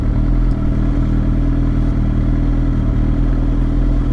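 A Suzuki GSX-R 750 motorcycle fitted with an Akrapovic exhaust runs steadily and loudly close by, its engine drone continuous with a slight surge near the start and no voices over it.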